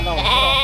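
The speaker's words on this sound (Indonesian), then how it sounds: "bawa kambing gibas ataupun wedus gibas" Gibas sheep at a goat market in Durenan, Trenggalek, give a drawn-out bleat, close and loud, over a busy background of market noise.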